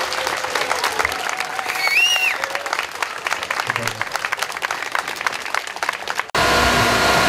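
Outdoor crowd applause at a summer village fair after a firefighters' demonstration of a crashed-vehicle rescue, a steady wash of clapping with whistling and voices over it, ending in a brief burst of different noise.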